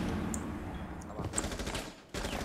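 Rapid bursts of gunfire from a shooter video game, a few quick volleys with a steady noisy game background, fairly loud and close.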